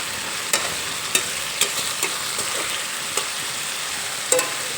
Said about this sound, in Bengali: মশলাগুলো এখানে আমি খুব ভালোভাবে কষিয়ে নিয়েছি